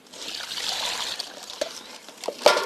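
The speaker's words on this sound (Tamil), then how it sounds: "இப்போ நண்டை உடைச்ச நண்டை இப்போ கழுவ போகிறோம்" Broken crabs are rinsed at home as water trickles steadily nearby, broken by a few sharper splashes and sloshes toward the end.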